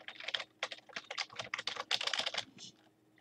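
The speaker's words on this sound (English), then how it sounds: "I touched something on my keyboard." Quick bursts of typing on a computer keyboard, close and fairly quiet, with irregular clusters of key clicks and short gaps between them.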